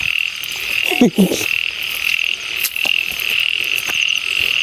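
Small frogs croak at night on a frog-hunting outing, a dense, steady chorus of high, chirping calls that fills the scene near and far, with some brief rustling and movement close by.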